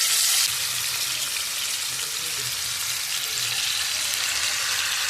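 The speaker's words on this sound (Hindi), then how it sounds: "अब हम इसी पैन में एक एक करके जो चिकन हमने मैरिनेशन के लिए रख दिए थे ये डाल देते हैं।" Marinated chicken pieces fry in hot oil in a pan, a loud, continuous close-up sizzle that flares briefly at the start and then holds a steady hiss.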